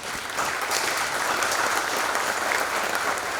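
A breakfast audience at the Bluefield Coal Show claps together for several seconds, a dense, steady round of applause in an indoor room.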